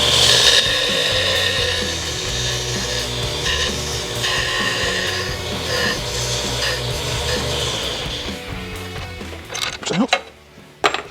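A belt sander grinding a radius grinds with a steady rough rasp that continues for several seconds, then winds down into scattered clatter near the end.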